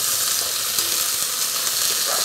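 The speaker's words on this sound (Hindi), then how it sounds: "मैंने ये हरी मटर ली है, तो इसको भी हम इसमें डाल देंगे और मिक्स कर देंगे" Green peas being stirred into a frying onion-tomato mixture in a pan, giving a steady close sizzle throughout with faint scraping stirs, no talking.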